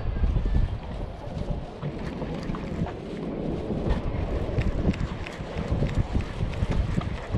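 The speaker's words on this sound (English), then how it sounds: "wind is getting crazy there" Strong offshore wind buffets the microphone on a fishing boat off the Durban backline, a steady loud rumbling roar with gusty surges and no talk.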